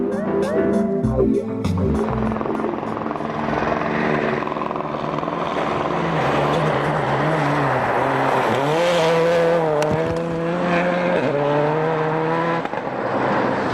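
Rally cars at the 2002 WRC Swedish Rally roar loudly and continuously toward the finish line, revving up and down with rising and falling pitch as they speed past.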